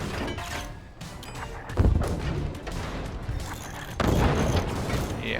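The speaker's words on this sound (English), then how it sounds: "Kindly stop shelling me" Artillery shelling in the fort-building game Forts: repeated booming impacts and blasts with bursts around two and four seconds, loud and close, over a busy rumbling battle din.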